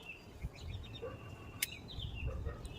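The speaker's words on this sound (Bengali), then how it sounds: "দেখবেন পাখির আওয়াজটা শুনুন।" Birds calling outdoors in the early morning beside a rainy-season brinjal plot, with a few faint, brief chirps and one sharp high call standing out over a soft breezy background, no talking.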